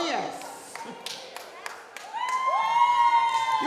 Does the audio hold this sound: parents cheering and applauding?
yes